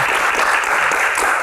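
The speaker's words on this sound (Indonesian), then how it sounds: "tepuk tangan buat Mbak Dewi" Dense applause from a large event audience fills the space, a continuous loud wash of many hands clapping with no break and no voices standing out.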